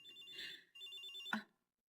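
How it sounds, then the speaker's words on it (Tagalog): An incoming call rings on a mobile phone with a bright electronic ringtone, close and clear, playing in two short bursts before it cuts off into silence; no one speaks. "May tumatawag sa phone ko."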